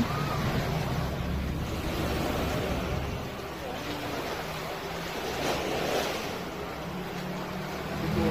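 Waves breaking on a wide sandy shore at Lido Beach in Hong Kong, a continuous surf roar with wind buffeting the microphone and the swell rising and falling in strength.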